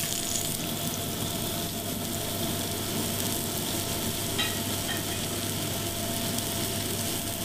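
Ossobuco, a cross-cut veal shank, sizzles in a hot pan after being turned at a Michelin-starred Belgian brasserie, a steady close frying hiss with faint stirring and a low kitchen hum, no talk.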